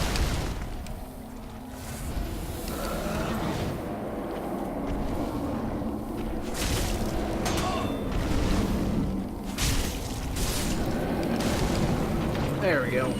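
A boss unleashes an explosion attack in Dark Souls 3, rumbling booms and fiery blasts rolling through a dense, noisy game mix with repeated bursts over several seconds.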